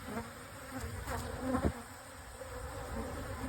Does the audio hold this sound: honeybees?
yes